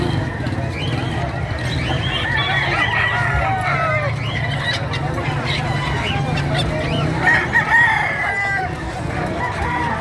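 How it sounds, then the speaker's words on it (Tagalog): A native rooster crows repeatedly in a rural yard, several loud nearby calls over clucking fowl and low background noise, with people talking in the background. "anong manok po yan"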